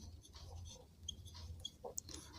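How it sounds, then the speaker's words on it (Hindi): Chalk or marker writing out a question on a classroom board during a geography lesson on solar and lunar eclipses: soft, scratchy strokes in short bursts, near and fairly quiet over a low room hum, with no talking. "सबसे पहले हम लोग क्वेश्चन लिखते हैं"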